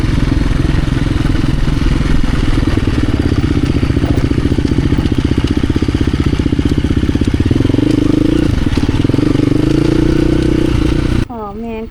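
A dual sport motorcycle rides a rocky trail, its engine droning loud and close with steady rhythmic chugging and rising revs, wind rumble over it, and a voice speaking near the end.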